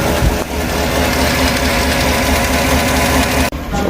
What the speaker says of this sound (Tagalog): so engine misfire